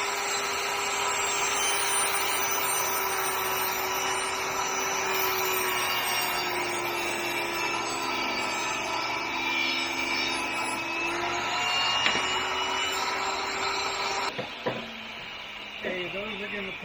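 A chainsaw cuts three-quarter-inch wood strips from a log for a bat house, its high motor whine running steadily and loud for most of the clip before cutting off near the end, followed by a few faint knocks.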